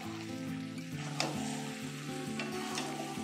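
Chicken pieces for hotel-style chilli chicken frying in hot oil, a steady close sizzle with scraping and stirring clatter, layered over background music with no speech.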